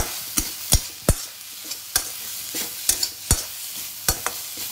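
Spices for a pea, soybean and potato curry being stirred and fried in a pan, with a soft steady sizzle broken by sharp scraping clicks of the spoon against the pan at irregular intervals, close and without talk.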